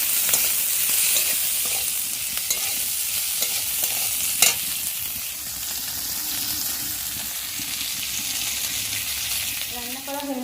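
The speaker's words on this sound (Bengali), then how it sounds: "শুক্তোগুলো ভাজছি।" Vegetables for shukto, a Bengali dish, fry in a pan with a steady, close sizzle, punctuated by occasional clicks and scrapes of stirring throughout.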